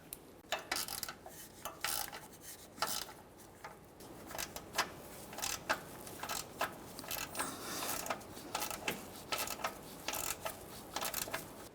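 A ratchet snugs up the sway bar bushing mounting bolts on a 2011-2020 Toyota Sienna, giving quick bursts of close metallic clicking with short pauses between strokes.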